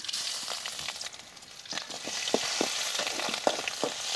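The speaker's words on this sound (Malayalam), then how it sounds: "എണ്ണ ചൂടായിട്ടുണ്ട് ഞാനിതിൽ ഒരു രണ്ട് ടേബിൾ സ്പൂൺ അളവോളം വെളുത്തുള്ളി ഇഞ്ചി നന്നായിട്ട് ചതച്ച് വെച്ച് നമുക്കിതിൽ ഇട്ട് കൊടുക്കാം" Crushed garlic and ginger frying in hot oil for chicken samosa filling, a close, busy sizzle with scattered scraping stirs and crackles that grow denser toward the end, no speech.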